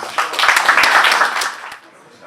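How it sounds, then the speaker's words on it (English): Applause from a press-conference audience for MMA fighter Abbas Nasir of K's gym, a short burst of clapping under a voice talking, fading out after about two seconds. "Give him a round of applause, please"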